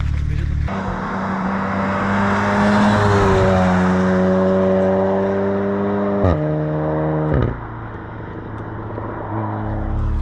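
Loud, close engine note from a Volkswagen Golf 7R fitted with a new exhaust, held at steady revs then climbing and dropping in pitch in several stepped blips, with a throaty drone throughout.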